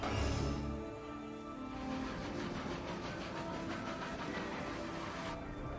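A moving train clatters along its rails with a steady rolling rumble and a fast rhythmic clickety-clack, fairly loud and continuous, with no one speaking.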